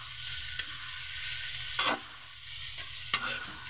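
Chicken gizzards sautéing in a pan, a steady hiss of frying with a few distinct scraping strokes of a spatula against the pan.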